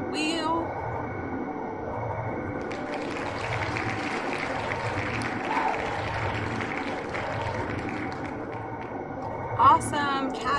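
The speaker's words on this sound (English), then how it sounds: "Let's hear a round of applause to our winner." A round of applause greets the winner of a keto low-carb Ohio buckeye bake-off, a dense clapping wash rising for several seconds while voices carry on around it.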